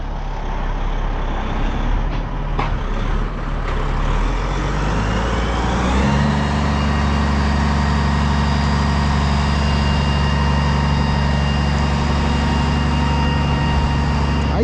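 A truck engine idles and revs while swapping out a dumpster at a scrapping site, with a hiss of air brakes, then settles into a steady, loud diesel drone.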